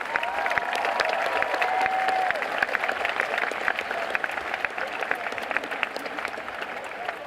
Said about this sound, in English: Please join me in a round of applause for these platform guests.